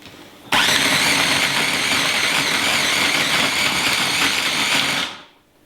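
A small kitchen blender whirs loudly and steadily for about five seconds while making a raw apple cake, starting abruptly and winding down at the end, with no voices.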